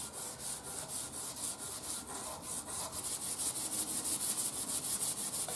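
Coarse steel wool scrubs rhythmically over the metal of a Zenith Boomerang radio, a steady series of soft, hissing strokes repeating about twice a second with no talk.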